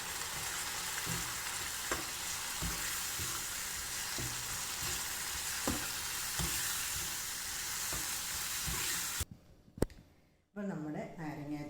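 Crushed dried chilli being stirred into lime pickle in a hot pan, with a steady sizzle and regular scraping strokes up close; near the end it briefly drops away before a voice speaks.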